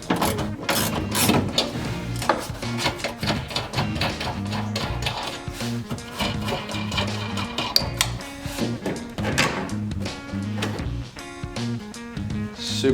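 A ratchet with a 10mm deep socket removes nuts from long studs holding a Chevrolet Cobalt SS tail light, producing rapid, close, continuous clicking for the whole stretch.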